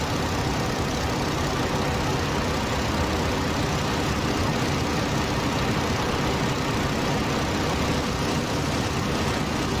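An aircraft engine drones in the World War I flight sim Rise of Flight, a steady, loud, unbroken roar with a low rumble underneath and no voices.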